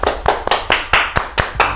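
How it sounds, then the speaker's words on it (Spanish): Steady hand clapping, about eight sharp claps in under two seconds, close and even in rhythm with no voices. "Aplausos, por favor, aplausos."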